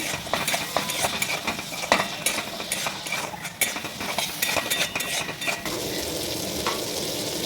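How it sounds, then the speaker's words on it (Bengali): Shrimp with a little salt being stirred and sautéed in a pan, loud continuous frying sizzle with frequent metal spatula scrapes and clinks close by, no voices. "আর হালকা করে লবণ দিয়ে দেবো এটাকে ভালোভাবে একটু কষিয়ে নিব"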